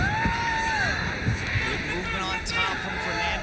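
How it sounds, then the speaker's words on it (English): A loud crowd roars and cheers at a ONE Championship mixed martial arts fight, the dense noise holding steady with voices shouting throughout. "This crowd is loud"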